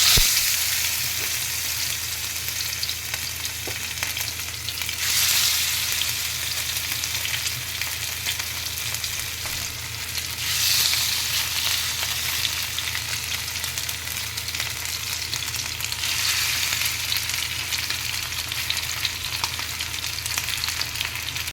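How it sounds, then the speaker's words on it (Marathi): Masala-coated surmai (kingfish) fries steadily in a pan, a continuous broad sizzle with gentle swells every few seconds, close and even, no voices. "सुरमईला सर्व मसाला लावून घेतलेला आहे तर ते फ्राय पॅनमध्ये मी आता हे ट्रान्सफर करत आहे जेणेकरून ते व्यवस्थित तळले जाते"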